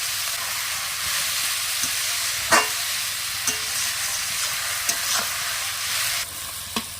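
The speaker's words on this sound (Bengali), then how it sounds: "এবার আমি দিয়ে দেবো পেঁয়াজ কুচনো।" Chopped onion fries in melted sugar and oil with an even, close hiss, and a few isolated clicks and taps from stirring punctuate it. No voices.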